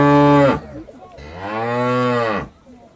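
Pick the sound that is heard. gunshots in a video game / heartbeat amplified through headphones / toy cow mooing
toy cow mooing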